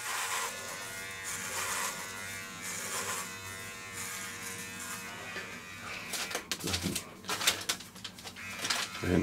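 Dollar Shave Club Double Header electric trimmer shaving hair, a steady close buzzing hum that turns choppier and uneven toward the end as strokes vary.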